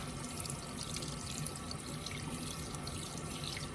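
Tap water runs steadily into a sink while hands are rinsed clean of foamy homemade body lotion, a continuous close splashing wash with no talking.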